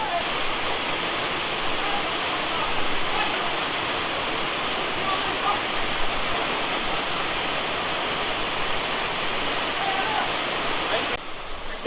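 A waterfall in Nagarkot in the dry winter season pours in a steady, loud, broadband rush that stays constant throughout with no break.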